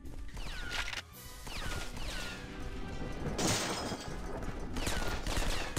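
Rapid bursts of pistol fire from the video game James Bond 007: Nightfire, several sharp shots and clattering impacts in quick succession over steady game noise.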